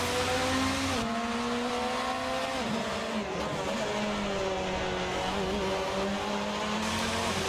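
Race cars at Donington Park, a fast, flowing circuit, in a racing video game: a Corvette and a hybrid prototype whine steadily through sustained engine notes and gear changes, loud and continuous.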